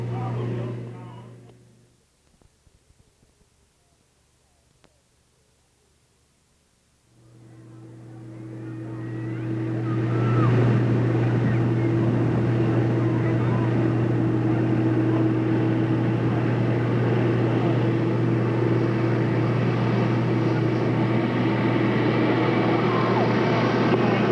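Race cars circle the track at Delta Speedway, their engines building from near quiet into a steady, loud droning roar that holds under an announcer's commentary.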